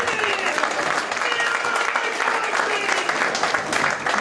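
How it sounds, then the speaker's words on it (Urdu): A crowd at a political gathering in London breaks into sustained, loud applause to welcome a speaker, dense clapping throughout with voices mixed in. "سب کھڑے ہو کے تالیوں میں میاں صاحب کا استقبال کریں"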